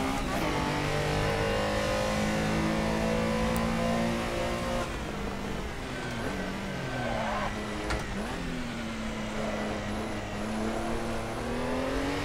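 A Porsche Carrera Cup race car engine in a sim racing game revs and accelerates loudly, climbing through gears with a brief lift and a renewed pull, continuous and close throughout.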